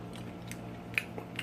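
A crunchy, refrigerator-chilled chicken wing dipped in Sweet Baby Ray's sauce, bitten close to the mic: a sharp crisp crunch followed by a few fainter chewing crackles over low background hum.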